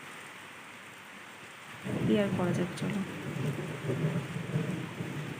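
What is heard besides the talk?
heavy rain with thunder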